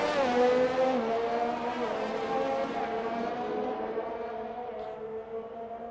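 Aston Martin race car in a racing video game, a steady high engine whine with shifting tones that slowly fades as the car pulls away along the track, with no voices.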